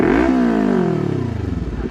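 Kawasaki Ninja 400 motorcycle engine revving up hard, then winding down in a long falling whine, loud and close with no talk over it.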